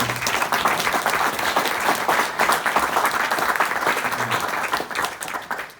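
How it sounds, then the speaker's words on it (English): An audience at a Space: 1999 fan convention gives a steady, dense round of clapping that fills the room for several seconds, then begins to thin slightly at the very end. "So I think probably a little round of applause for Warren and Roy"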